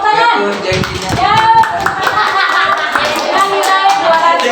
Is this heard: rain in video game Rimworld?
no